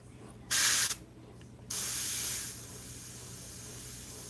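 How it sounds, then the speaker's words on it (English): Light bursts of paint spray from a sprayer while painting a rose: a short close hiss, a pause, then a longer steady hiss that fades to a softer spray, with no talking. "Now I'm gonna spray this super light."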